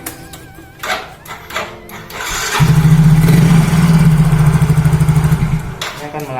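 A Yamaha Mio GT automatic scooter engine starts with a brief crank and then idles loudly and steadily for a few seconds before cutting off, with clicks and handling noises around it.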